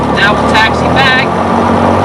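A small airplane taxiing on an airport runway, its engine a steady loud drone with propeller hum, with people talking over it.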